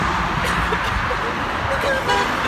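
Car horn toots briefly a few times amid road traffic noise, with voices talking over it.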